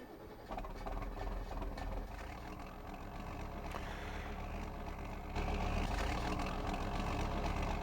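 A Fiatagri 180-90 tractor engine in Farming Simulator 19 runs with a steady low diesel rumble, starting up and holding a continuous drone that grows slightly fuller near the end, heard alone.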